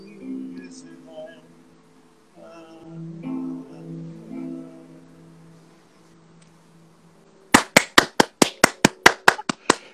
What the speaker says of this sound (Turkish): Herkes adına seni alkışlıyorum.